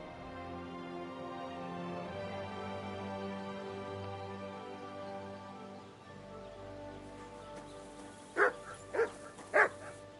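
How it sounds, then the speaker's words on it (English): A mutt barks three times in quick succession, loud and close, in a medieval village scene in Kingdom Come: Deliverance II, following a long stretch of sustained ambient music. "Man, what are you barking at?"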